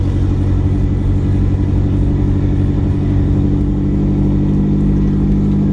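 An illegally loud car passes nearby with a deep, steady rumbling engine drone, loud and continuous without clear rises in revs, with no talk over it.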